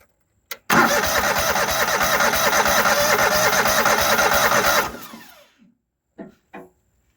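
The engine of a farm machine bought at auction, suspected of a bad carburetor, cranks loudly and steadily for about four seconds, then winds down and stops, followed by a few faint knocks.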